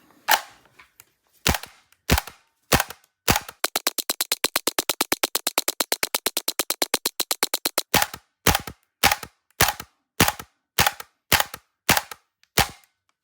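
A Krytac Kriss Vector gas blowback airsoft rifle fires semi-auto, sharp crisp cracks with bolt clatter, first spaced, then a fast even burst of dozens of shots, then spaced single shots again, close and loud with no talk.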